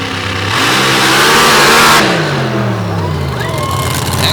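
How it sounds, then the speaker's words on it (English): Loud roar of a supercharged 540 cubic inch Boss Ford engine with a Whipple blower at a paddle-tire drag race, revving hard and then falling away in pitch as the run ends, with a faint crowd beneath it. "A big 540 cubic inch Boss Ford engine. The 980A Whipple supercharger."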